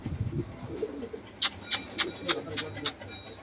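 Pigeons perch in the open on construction shuttering, with soft cooing under a low murmur of a voice, followed by six evenly spaced sharp clicks or taps about a third of a second apart.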